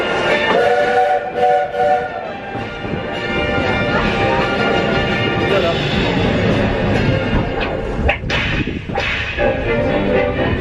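A Disneyland Railroad steam locomotive train at Disneyland Paris, heard from on board as a continuous rumble of rolling cars with a sustained whistle-like tone, while a voice speaks over the ride.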